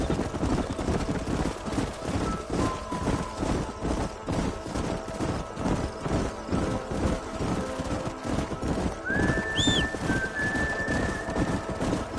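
Horses in the video game Red Dead Redemption, hooves clip-clopping steadily through a canyon amid constant outdoor ambience, with a rising whistle-like tone near the end.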